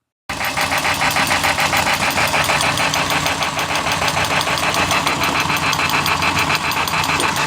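A Lionel toy train engine runs on test rollers and gives a loud, steady mechanical whir and chatter with a rapid rhythmic clatter. It starts abruptly after a moment of silence and continues evenly, with no talking.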